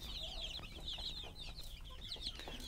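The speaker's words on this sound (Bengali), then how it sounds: "এগুলো হলো আমার দেশি মুরগির বাচ্চা।" A flock of one-month-old desi chicken chicks peeps and cheeps continuously at close range while being fed, high chirps overlapping with soft pecking sounds.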